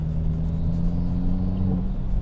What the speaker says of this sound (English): the sport modes open up the exhaust